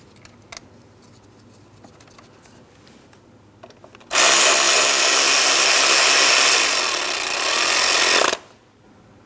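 A power tool drives home the VVT solenoid mounting bolt on a 2003-2007 Cadillac CTS 3.6L V6, a loud, steady whirring burst of about four seconds that cuts off abruptly, with quiet workshop clatter before it.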